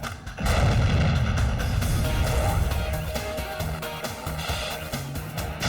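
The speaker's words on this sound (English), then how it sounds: "There's thrills, spills, and the biggest explosion in MythBusters history." A huge blast from a MythBusters explosion test, one heavy boom with a roaring, rumbling tail that rolls on for several seconds, loud and close with no talking.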